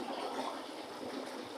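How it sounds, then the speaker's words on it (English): Creek water and a small waterfall in a quiet wooded valley in an Ohio nature preserve, a steady, bright rushing and splashing heard close and continuous. "It's actually a really good place if you like sounds of waterfalls and creeks"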